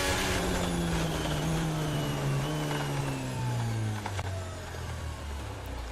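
Valtteri Bottas's Alfa Romeo Formula 1 car on the main straight at the Spanish Grand Prix, a steady high-pitched engine whine heard from a distance that slowly falls in pitch as the car passes and fades.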